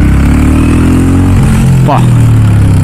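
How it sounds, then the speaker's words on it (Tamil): A Royal Enfield Classic 350 motorcycle with 20,000 km on it idles up close, its single-cylinder engine making a loud, steady low thump, with a voice briefly talking over it. "அந்த தம்பு சவுண்டு கேட்குது. பட் ஸ்டில் அந்த ஒரு பழைய ராயல் என்ஃபீல்டு சவுண்டு இருக்கும் பார்த்தீங்களா"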